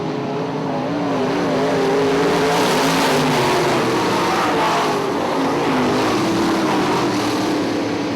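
IMCA modified race cars roar around the Ionia Raceway oval, with engines droning and revving continuously at a steady, loud level throughout.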